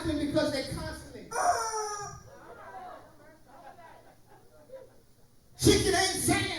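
Chickens from a flock cluck and crow, a rooster-like call rising in short bursts between stretches of people talking over them.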